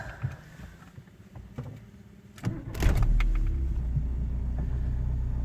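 Cold start of a 1990 Volkswagen Golf GTI MK2 with 129,602 km: a few clicks, then a brief starter crank and the engine catching into a steady, close, low idle rumble.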